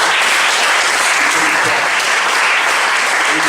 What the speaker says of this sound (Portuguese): Então pode aplaudir a palavra do Senhor.